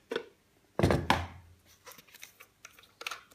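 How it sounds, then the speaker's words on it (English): Structural foam cartridge being ejected from an applicator gun during BMW bodywork: a couple of sharp plastic thunks and clicks, close and fairly loud, followed by smaller handling taps. "Eject the cartridge."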